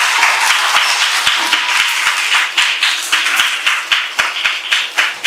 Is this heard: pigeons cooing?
no